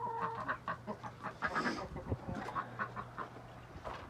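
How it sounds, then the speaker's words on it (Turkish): Mixed-breed village chickens in Turkey cluck and chatter close by, with several short overlapping calls in an uneven rhythm over a low steady hum. "Karışık köy tavuğu işte."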